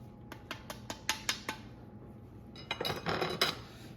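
A metal pan lid is handled at a kitchen stove while stuffed chicken cooks, giving a run of sharp clinks and clatters, close and moderately loud, with a busier burst of rattling near the end.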